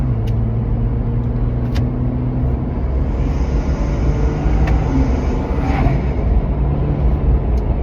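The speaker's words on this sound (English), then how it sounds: "So just put the dump pipes in. This is quiet mode." A Ford Ranger Raptor fitted with exhaust dump pipes, idling in quiet mode, gives a steady, loud, low rumbling drone that holds continuously throughout, with no voices over it.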